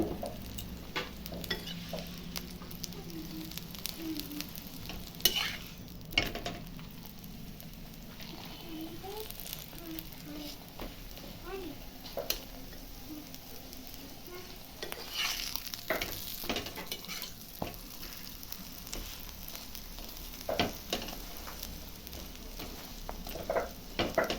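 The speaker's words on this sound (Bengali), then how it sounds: "এই দেখো পরোটাটা কি সুন্দর ফুলে উঠেছে" Paratha frying in white oil in a home kitchen: a soft, continuous sizzle with occasional stirring and scraping clatter, fairly quiet, with speech throughout.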